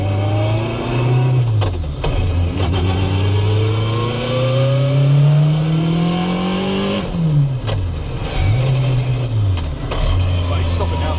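A K20-engined Toyota MR2 accelerating hard in third gear from low revs, its engine note climbing steadily and loud close by, with a brief gear-change dip and a second rising pull.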